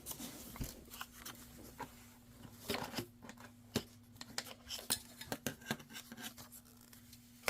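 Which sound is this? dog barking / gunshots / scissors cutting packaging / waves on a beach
scissors cutting packaging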